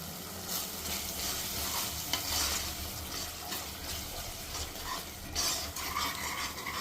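Chicken curry base with rock salt and turmeric stirred in a hot pan, a continuous sizzle with scraping spoon strokes throughout, close and fairly loud.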